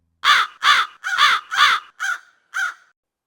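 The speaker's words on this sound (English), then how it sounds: "crows were heard cawing outside the gate" Crows caw six times in a row outside a gate, loud harsh calls, the first four close together and the last two shorter and spaced apart, with no voices around them.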